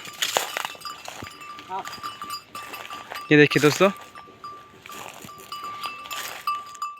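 Farm goats called over by their keeper bleat loudly in one strong cry midway, with softer bleats around it while someone talks over much of the scene.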